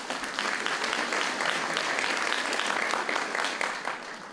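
Audience applause at a school concert for the patron's day: a steady wash of clapping from a hall crowd, moderately loud and sustained for a few seconds, tapering slightly at the end.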